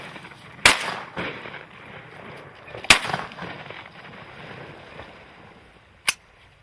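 Three sharp shotgun blasts ring out from a goose-hunting blind, two close together near the start and a fainter third after a pause, each with a brief outdoor echo over quiet ambient noise.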